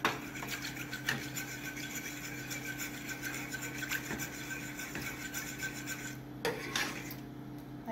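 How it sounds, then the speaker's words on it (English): A whisk scraping and rasping in a pot as evaporated milk is beaten into thick roux paste for potato soup, a quiet continuous rhythmic stirring and scratching with no talking. "Whisk it really good so that the thick roux paste gets mixed in with the milk."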